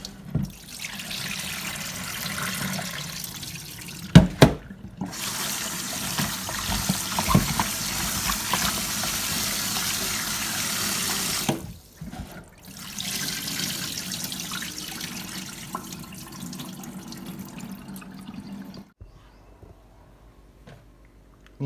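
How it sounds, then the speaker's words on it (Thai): Tap water runs into a sink while chicken feet are washed clean after a vinegar soak, a continuous splashing stream that cuts out briefly twice and stops near the end, leaving quiet. "เราก็จะมาล้างให้สะอาดนะครับ"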